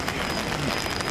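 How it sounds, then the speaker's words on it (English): Steady rain falls at Tampa airport during a storm, a close, continuous hiss of drops on hard surfaces, alone with no talk. "The weather doesn't seem that bad, some rain in the area."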